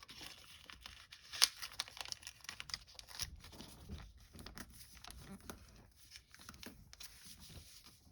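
Paper is folded and creased into an origami fighter jet, close-up crinkling, rustling and sharp crackles in irregular bursts, one louder snap near the start, with no talk.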